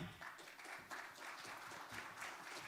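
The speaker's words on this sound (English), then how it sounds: "Everyone, give a big round of applause to Hadi" An audience claps at a blockchain congress, steady dense applause from a crowd heard at a moderate distance, quiet and unbroken throughout.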